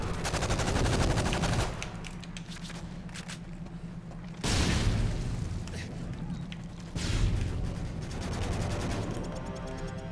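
Gunfire in the video game Modern Warfare 3 free-for-all, rapid automatic bursts in three loud stretches with brief lulls between, dense and close, and a little talk mixed in.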